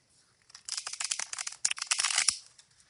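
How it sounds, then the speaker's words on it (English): Tarot cards are riffle-shuffled, a quick rustling flutter of stiff cards snapping together for about two seconds, close and moderately loud, with no talking. "I hate bending my cards, but I like to get that nice shuffle in"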